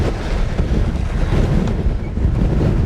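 Strong wind roars and buffets a microphone while cycling into a full-on headwind on a rural descent toward Kettlewell, a dense continuous low rumble with no talk.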